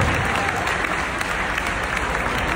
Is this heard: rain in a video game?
no